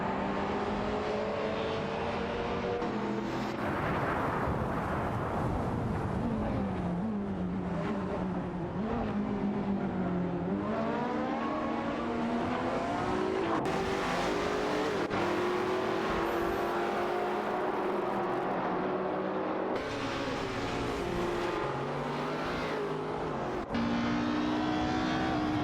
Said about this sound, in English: The gap is minimal as they race down the straight, with both drivers showing aggressive maneuvers to gain the upper hand.